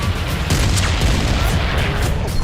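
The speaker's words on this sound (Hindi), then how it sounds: "इजराइल में शनिवार रात रह रहकर धमाके होते रहे।" Continuous deep rumbling booms from explosions in Israel during a night of rocket attacks roll through the clip, heavy and loud, like distant explosions echoing with no clear pauses.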